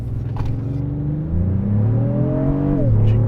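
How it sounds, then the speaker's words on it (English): A 2025 Lexus GX with traction control off accelerates hard toward 120 km/h, its engine revving steadily upward through the gears with a brief dip at a shift, loud and close from inside the cabin. "turn traction control off, just so we can dial up some revs. We're going to go all the way through to 120"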